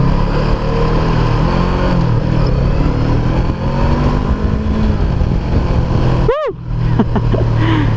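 An FKM Glider 500S cruiser motorcycle accelerates hard through first, second and third gear, its loud, close engine note climbing steadily with a sharp dip at a gear change before pulling on again.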